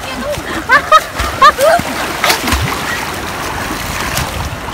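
A wave splashes and washes around surfers in the sea, with water rushing and spraying for a few seconds while people shout and talk nearby.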